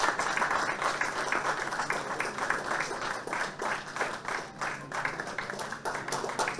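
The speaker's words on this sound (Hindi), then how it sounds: "लगातार तालियां बजती रहे प्लीज" An audience at an award ceremony claps continuously, a dense, steady wash of many hands that persists evenly at moderate loudness.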